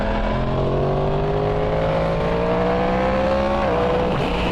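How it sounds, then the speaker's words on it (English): A 2023 Yamaha MT10 with a Junction 33 Woolich remap holds a steady, loud engine drone on the ride, pitch slowly rising then dipping as throttle eases into overrun burble, with rushing wind constant throughout. "it's got some overrun burble"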